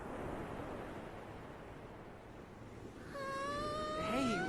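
Ocean surf washes steadily against an island shore, a soft continuous hiss of waves, faint and even, with a high thin tone rising near the end.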